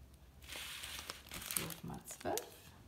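Packs of 12x12 craft paper crinkle and rustle as they are handled up close, short crackling bursts over a couple of seconds with a soft voice underneath.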